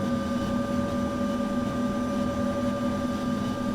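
Airliner engines from the FS Labs aircraft in the Prepar3D flight simulator give a constant loud drone with steady tonal whines layered over a low rumble, unbroken throughout and without speech.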